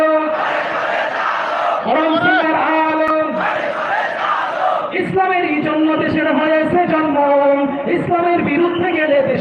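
Crowd of voices chanting religious slogans in unison at an Islamic sermon gathering in Bangladesh, loud and continuous with rhythmic rising and falling phrases and harmonic voiced tones throughout.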